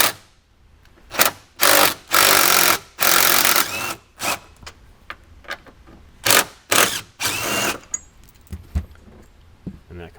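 A power tool, likely a ratcheting driver, removes 10mm bolts from a board in a Ford Bronco. It whirs loudly in short repeated bursts with ratcheting clicks, followed by lighter scattered mechanical clicks.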